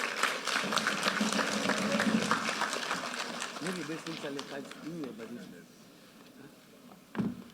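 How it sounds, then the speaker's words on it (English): An audience at a gathering gives a round of applause, with dense clapping that fades out over several seconds while a voice speaks over it. "Give him a round of applause."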